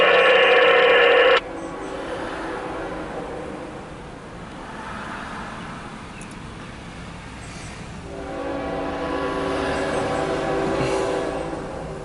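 CSX Q135-14 westbound intermodal freight train of 280 axles on track 2, opening with a loud horn blast that cuts off, then a steady rolling rumble of wagons passing close by that swells again near the end.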